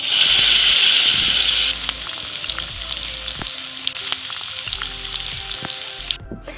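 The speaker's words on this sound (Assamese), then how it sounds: "ইয়া তেলখিনি গৰম হোৱাৰ পিছত এতিয়া মই ভেন্দিখিনি ইয়াতে ভাজিম" Okra fries in hot oil in a wok, starting with a loud, dense sizzle that eases after about two seconds. A steadier crackle follows, broken by occasional clicks of a stirring utensil, with no talk.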